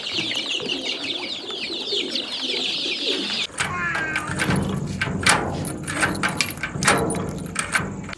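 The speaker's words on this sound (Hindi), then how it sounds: "कबूतर अल्हम्दुलिल्लाह कमरे में चले गए हैं" Pigeons coo softly at a farmhouse in cold evening air, a steady murmur of calls with chirps mixed in and shifting background noise.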